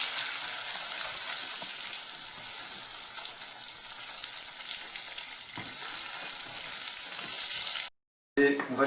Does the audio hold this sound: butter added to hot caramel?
yes